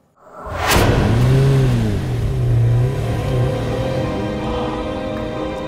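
A car engine revs hard and roars close by as the vehicle accelerates away, a sweeping rise then a steady loud drone.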